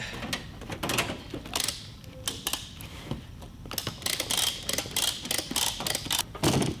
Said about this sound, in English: it's a ratchet device, and it will pull it really taut until it's tight